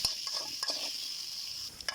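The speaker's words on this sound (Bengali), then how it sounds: "আলুগুলো এখন ভেজে নেব তেলে।" Potatoes fry in hot oil seasoned with salt and turmeric, a soft continuous hiss close by with a few brief stirring knocks, fairly quiet.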